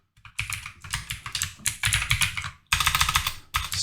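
Rapid typing on a computer keyboard while entering build commands, dense bursts of clicky keystrokes in quick runs with short pauses, close and fairly loud, no voices.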